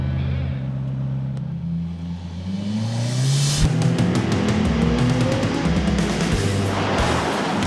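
McLaren supercars, including a 720S and a Senna, roar around a race track with a loud, sustained engine rumble that swells and rises in pitch as they accelerate past, alone with no talk.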